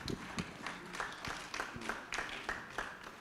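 An audience at a cassava conference claps faintly, the separate hand claps loosely and unevenly spaced and heard from a distance.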